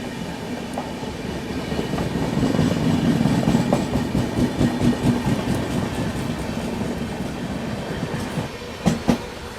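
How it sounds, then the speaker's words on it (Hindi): Ajmer Sealdah Superfast Express slowly overtaking alongside, a steady rumble of wheels with rhythmic clickety-clack over rail joints swelling and easing, with a couple of sharper clanks near the end and no talk. "Ajmer Sealdah superfast express. खैर काफी धीमे गई।"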